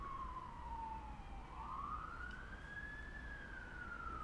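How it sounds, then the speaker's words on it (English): A single emergency vehicle siren wails outside in the distance, a faint sweeping tone that dips and rises slowly over a low background rumble. "The sirens that are persisting throughout this conversation."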